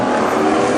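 WISSOTA street stock race cars roar past on the Princeton Speedway track, a dense, loud, steady engine drone with no break.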